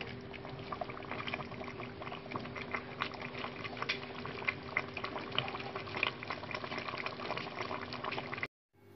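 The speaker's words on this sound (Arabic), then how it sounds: "دابا غنخليو هاد المروزية ديالنا تعسل مزيان" Marouzia bubbles in honey syrup with a steady, dense simmering gurgle, continuous and moderately close, before cutting off abruptly near the end.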